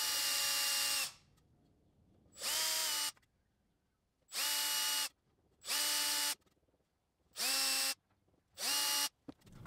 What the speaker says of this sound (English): I'm pre-establishing the thread for these screws whilst I've got the legs here